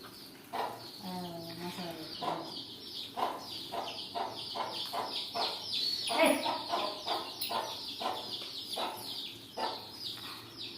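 Hens cluck repeatedly in a busy, uneven rhythm, with higher chick peeps mixed in and a brief voice nearby.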